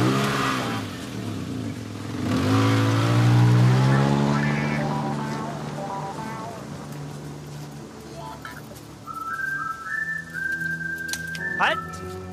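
A car pulls away, its engine rising and revving loudly for a few seconds and then fading into the distance, with people talking over and after it.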